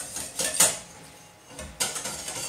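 Utensil scraping and clinking against a pan while lemon juice, eggs and cornstarch are stirred together over heat, two bursts of close, bright metallic scraping separated by a quieter pause.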